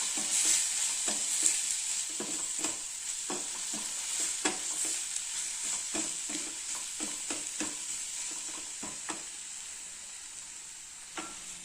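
Masala spice paste for capsicum rice sautés in a pan with a bright, continuous sizzle, while frequent soft scraping strokes of a spoon stir it up close.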